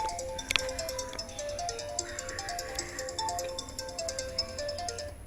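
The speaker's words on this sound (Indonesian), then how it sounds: "ada telepon masuk" A phone's ringtone for an incoming call, a repeating melodic electronic tune played in steady short notes, moderately loud and alone, with a faint tap near the start.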